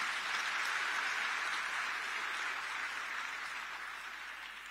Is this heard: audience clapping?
yes